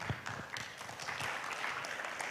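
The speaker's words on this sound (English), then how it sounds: "We give applause for Professor Paul." A conference audience at a green shipping and sustainable energy event applauds Professor Paul, a soft, fairly distant patter of scattered hands clapping for a couple of seconds.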